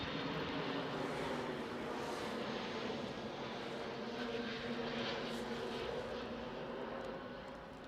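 A Pegasus airliner at Edinburgh airport gives off a steady, broadband jet roar that holds level throughout and eases slightly at the very end, with no talking.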